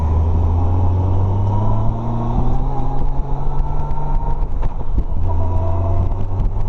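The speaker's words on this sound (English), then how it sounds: "That damn car's gonna follow me." Car engine droning steadily nearby with a low humming rumble that shifts pitch as it drives behind, continuous and fairly loud.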